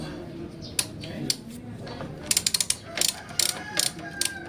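A ratchet tightens the linkage bearing bolt on a Yamaha MT-15 motorcycle, giving short bursts of quick metallic clicks, with sparse clicks early and denser clusters later, fairly close over a quiet background.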